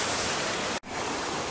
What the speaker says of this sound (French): on longe la cascade